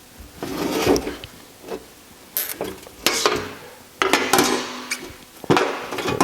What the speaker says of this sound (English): I'm just going to use a pry bar, and I want to just work this bushing out